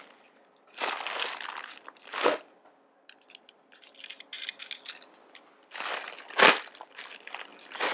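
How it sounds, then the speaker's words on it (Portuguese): A utility knife slices open the packaging of a Seasonic 860W Platinum power supply box, giving several separate crunching, crinkling cuts and rustles with quiet gaps between them. "Vamos abrir ele aqui. Pegar o estilete."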